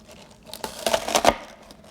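A knife cuts the bottoms off asparagus stalks still held in plastic wrap, giving a few close crinkling, crunchy slicing sounds that build to two sharper snaps near the end, with no talking.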